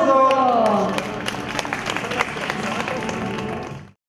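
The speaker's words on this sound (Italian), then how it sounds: "Grosso applauso!" Audience applause and clapping greet Miss Italia 2017 at an event in Praia a Mare. It starts under a speaking voice, then swells into a sustained crowd clatter before cutting off abruptly.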